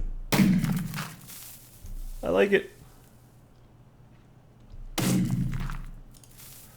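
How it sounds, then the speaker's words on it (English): Deep booming thuds from explosions in Age of Empires, three heavy blasts spaced a few seconds apart, with a brief spoken remark between them. "we can hear explosions happening"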